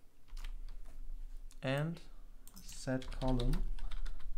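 Typing on a computer keyboard while setting up an inventory widget: quick, close clicky keystrokes running throughout, partly under someone speaking.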